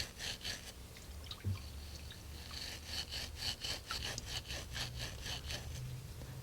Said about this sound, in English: I'll take a wire scrubber, a wire kitchen scrubber,